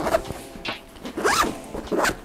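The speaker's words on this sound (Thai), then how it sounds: "ตัวซิป ประมาณนี้นะครับ" A zipper on a TRULY "EYE" multi-compartment camera bag is pulled shut in a few quick, rasping strokes, close and clear, with short pauses between pulls.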